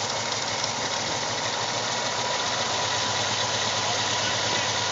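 A 2001 VW Jetta GLS 12-valve VR6 engine with misfiring cylinders runs close by at a steady, rough, buzzing pace with an uneven low pulsing. No distinct rise in revs is heard.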